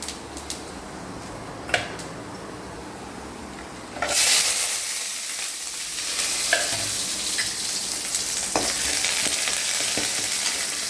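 Onion and dried red chilies frying in a pan, a soft hiss with a few stirring clicks that swells into a louder, steady sizzle partway through, with no talk.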